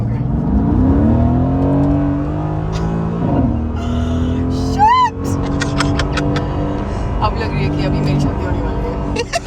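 A gunmetal Shelby GT500 Mustang Eleanor accelerates hard from 0 to 60, its engine note climbing through the gears with a brief shift pause, loud and close, while people talk over it.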